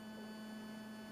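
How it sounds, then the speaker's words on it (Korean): An electromagnetic field in a city space, picked up as a steady electrical hum with a strong low buzzing tone and fixed overtones, faint and unchanging, with no voices. "이거는 그 현장의 전자파장 소리예요"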